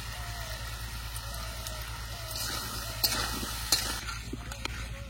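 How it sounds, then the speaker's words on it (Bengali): Potatoes frying in a pan with salt and turmeric for a hilsa fish curry, a low steady sizzle with occasional stirring and utensil clinks, close and moderate in level. "এবার আলুগুলো ভালো করে ভেজে নেবো"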